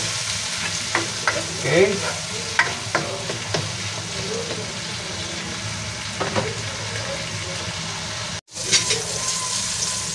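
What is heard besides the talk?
sautéing tomatoes in a pan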